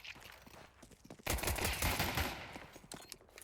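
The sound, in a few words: gunshots in Counter-Strike 2 video game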